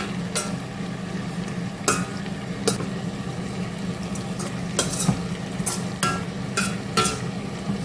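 Tomato chutney frying in a pan is stirred with a utensil, giving a steady low sizzle broken by repeated sharp scrapes and clinks against the pan, alone without talk.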